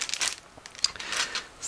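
A plastic bag holding Zvezda 1/72 Bumerang APC model kit sprues is handled up close, giving a run of crisp crinkles and rustles with a sharper crackle partway through, with no voices.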